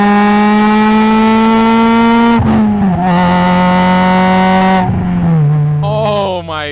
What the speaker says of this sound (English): Let's go to fourth gear real quick.